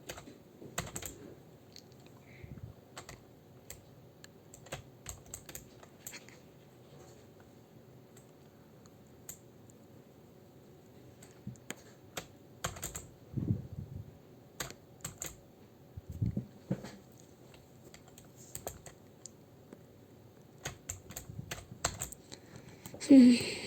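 Rapid keyboard typing clatters steadily in the background, with clustered bursts of keystrokes and occasional louder clicks.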